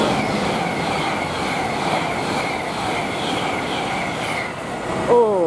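A fast London Paddington to Bristol Temple Meads train rushes through Didcot Parkway station, a loud, sustained roar and rumble close by, with a brief high squeal near the end.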